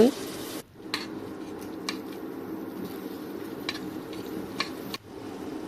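Tomatoes, green chilies and ginger-garlic paste sautéing in a pan for Chettinad mutton kulambu, a steady close sizzle with a few sharp stirring clinks and scrapes of a spoon against the pot.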